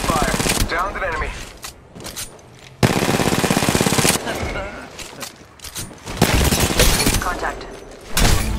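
Loud bursts of rapid automatic gunfire in Apex Legends Mobile on the Olympus map come in several long volleys separated by brief pauses, with a voice speaking between and under the shots.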